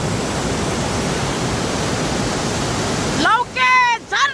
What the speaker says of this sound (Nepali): लौके झरना हे यता पनि छ झरना यता पनि छ झरना